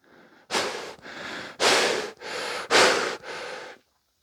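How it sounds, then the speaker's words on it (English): Five heavy, drawn-out breaths through a dust mask, alternating strong and softer, close and loud, with no talking. "Now, I'm heavy breathing onto a video."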